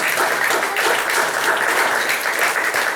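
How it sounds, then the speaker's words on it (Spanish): A congregation at a church sermon breaks into steady, dense applause that carries evenly throughout, close and loud, with no speech over it. "Así que den un aplauso al Señor."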